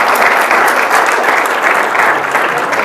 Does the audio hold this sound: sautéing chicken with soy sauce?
no